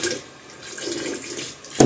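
Water runs from a tap in a home, a steady moderate splashing flow with a brief louder gush near the end, no talk over it.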